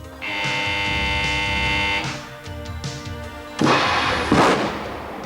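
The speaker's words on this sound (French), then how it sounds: "L'essai montre les effets d'une explosion de poussière d'amidon dans une chambre de 10 mètres cubes" A loud whooshing blast of a starch dust explosion in a 10-cubic-metre test chamber erupts after a sustained electronic tone and some thuds, followed by a second burst of rushing noise.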